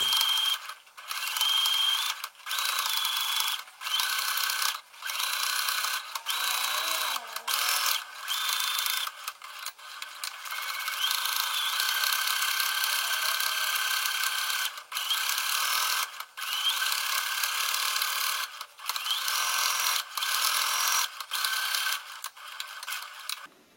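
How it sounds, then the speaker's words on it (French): A sewing machine topstitches seams twice, running in long steady mechanical whirring stretches broken by short stops, close and fairly even in level, with no voices. "Sur l'endroit, on va venir surpiquer nos coutures deux fois, donc une première à 2 mm et une seconde à 7 mm."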